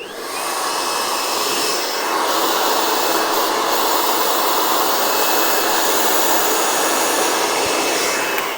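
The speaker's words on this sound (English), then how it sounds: "I'm just going to do a quick little zhuzh with the blow dryer here." A blow dryer styles hair up close with a steady, loud, unbroken whooshing roar that holds for the whole stretch, with no talking over it.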